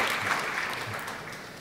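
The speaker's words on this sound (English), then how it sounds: "Applause for" Applause at a Southeast Asian forests summit for the chair of the Indonesian Palm Oil Board, a short burst of audience clapping that gradually fades.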